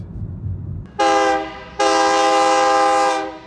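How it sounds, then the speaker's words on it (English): A train horn blasts loudly twice near a sand car factory on the west side of Phoenix, Arizona, a short sustained honk followed by a longer one, over low rumbling rail noise. "Here comes the train."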